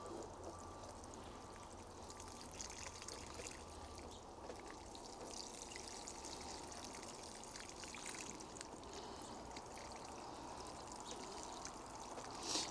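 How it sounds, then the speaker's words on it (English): Water poured from a jug into an old hanging garden container, a quiet continuous trickling and splashing stream that runs steadily throughout, faint and close, with no talking. "And then we're going to water it thoroughly."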